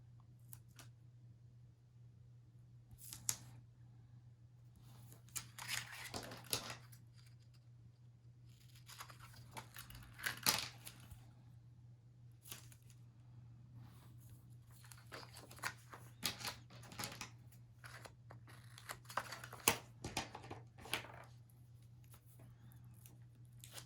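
Tape being pulled off while adding paper to a pocket of small paper flowers for a cookbook, a series of quiet peeling rips and crinkles spread irregularly over a steady low hum, with no voices.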